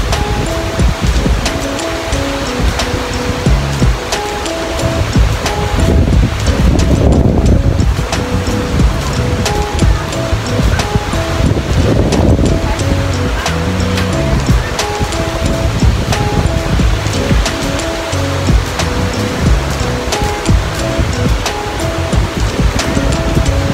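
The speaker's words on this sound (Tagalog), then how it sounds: "napakaganda ngayon ng beach guys" Surf breaking on Boracay's beach, a steady loud wash of waves with wind buffeting the microphone throughout.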